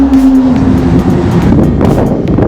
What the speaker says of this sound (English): You can hear a car in the background on the dyno